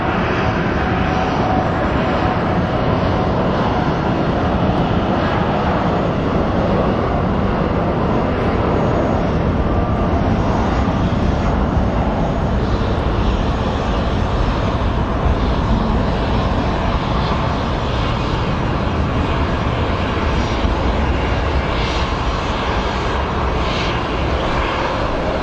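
A jet airliner departing Phoenix Sky Harbor on a short hop to Flagstaff, a loud sustained engine roar that holds steady at close range for the full stretch, with no pauses.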